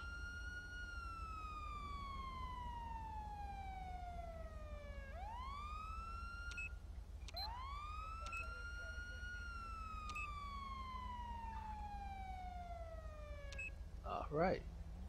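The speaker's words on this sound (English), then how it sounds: "Turn the siren on." Wailing police siren from a Dodge Madden patrol car in GTA V with the LSPDFR mod, rising and falling in long sweeping cycles over a steady low engine drone, with a brief burst of rapid yelp near the end.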